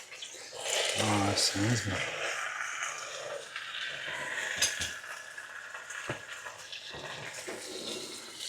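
Steak sizzles loudly in a hot pan as water is added at home, with a burst of hissing and scraping utensil clatter while a person talks over it.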